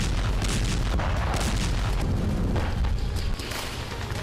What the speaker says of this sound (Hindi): इसराइल की बमबारी तो गाजा में जारी है